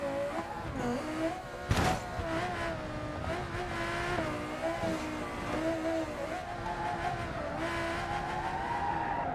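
Tyres skidding and sliding out as a race car loses grip in a racing video game, a steady screeching tone wavering over a loud, continuous engine drone with one sharp burst near the start.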